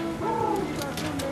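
Pigeons or doves cooing in Guam at Chamorro Cultural Park, a close, steady low hooting coo running through the whole moment, with fainter calls from other birds mixed in.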